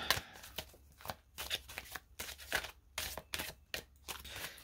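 Oracle cards from a Romance Angel deck riffled and shuffled by hand, a string of quick papery flutters and soft slaps in uneven bursts, close and fairly quiet with no talk.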